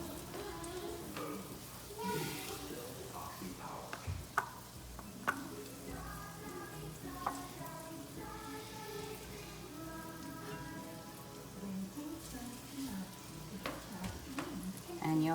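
Slices of French toast frying in a pan, a soft continuous sizzle and crackle with scattered small pops, fairly quiet and close, with faint background sounds underneath.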